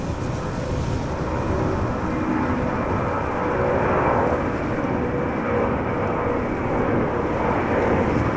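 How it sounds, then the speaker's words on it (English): Saudia Boeing 747 departing Amsterdam Schiphol, a broad steady jet roar heard from the airport perimeter at moderate distance, swelling slightly as the big four-engine airliner climbs away, with no speech. "There it is. Saudia 747."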